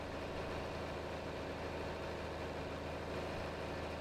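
A John Deere 4020 tractor with 4WD in Farming Simulator 22 drones at a steady idle, a continuous low engine rumble with no change in revs and no voices.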